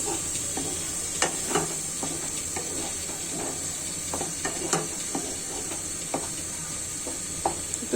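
Rohu fish roe curry sautéing in a pan, a steady close sizzle and hiss with scattered scraping taps of a spatula stirring through it, no voices.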